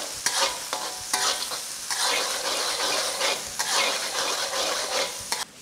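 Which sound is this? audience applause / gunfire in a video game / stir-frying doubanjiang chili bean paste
stir-frying doubanjiang chili bean paste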